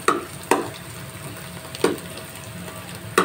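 Roasted dry fruits being stirred into carrot halwa in a pan: four sharp spoon-against-pan strokes at regular intervals over a low continuous frying sizzle, close and fairly loud.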